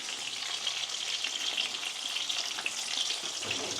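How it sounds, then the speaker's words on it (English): Food frying in butter in a pan while it is mixed, giving a steady, close, loud sizzling hiss that runs unbroken throughout with no voices. "Get all that butter mixed in."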